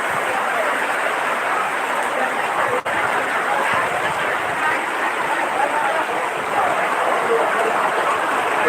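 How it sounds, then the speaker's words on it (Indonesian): Steady heavy rain falling during an outdoor live music event in Bogor, Indonesia, a loud, dense, unbroken hiss of rainfall on surfaces that fills the whole stretch with only a brief dip. "Hujan."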